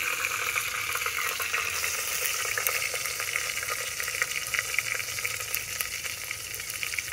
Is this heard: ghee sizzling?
yes